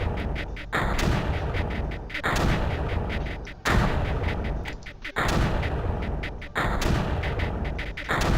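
Mortars firing in Creeper World, about five heavy thumping launches at roughly regular intervals, each followed by a sustained rumbling crackle, loud and close with no talk.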